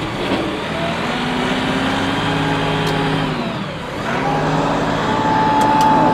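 The diesel engine of a 2021 Bobcat CT5550 compact tractor loader runs steadily and close, with a slight dip and rise in revs partway through.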